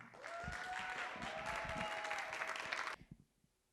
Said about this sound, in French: Je vous demande d'applaudir Zélie.